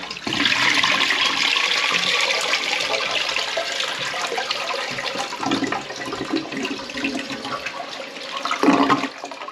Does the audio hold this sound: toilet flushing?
yes